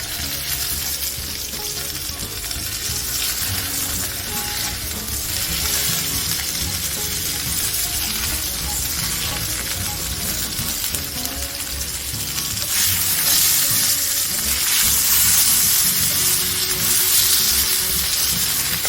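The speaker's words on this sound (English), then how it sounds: "So after the patties have been frying for about 8 minutes each side, I plate up" Curried chicken patties fry steadily in a hot pan, a continuous loud sizzle and crackle that swells louder partway through, with no talking.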